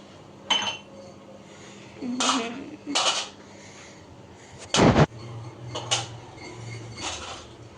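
Cups and dishes are set out for tea in a home kitchen, giving several separate close clinks and rattles of crockery and cutlery with one louder clatter midway, in an otherwise quiet room.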